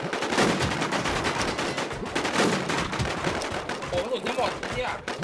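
Gunfire in a shooter video game: rapid automatic bursts and single shots crackle in near-continuous volleys, with excited players talking over the shooting.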